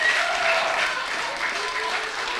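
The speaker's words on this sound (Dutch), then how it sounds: "Ik wil nog een heel groot applaus voor boer Gerda." An audience gives a long, even round of applause for farmer Gerda, the clapping dense and sustained, with some faint vocal sounds and a few whistles threaded through it.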